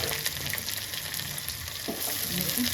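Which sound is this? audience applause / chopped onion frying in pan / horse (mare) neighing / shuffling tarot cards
chopped onion frying in pan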